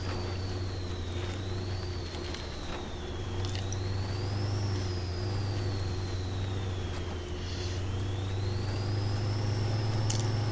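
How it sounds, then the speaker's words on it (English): Turbocharged truck engine in the video game SnowRunner on a dry canyon map, a steady low engine drone beneath a high wavering turbo whistle that rises and falls, continuous and fairly loud with no talking. "Is that the turbos that make this truck sound the way it does, that kind of whiny, whistly sound?"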